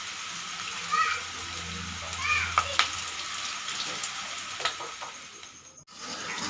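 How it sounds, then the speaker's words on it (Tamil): Small pieces of ragi pakoda frying in hot oil give a steady, moderate bubbling sizzle with a few light clicks, while a voice talks faintly in the background. "சின்ன துண்டாக போட்டு நல்லா பொரிச்சு எடுத்துக்கலாங்க."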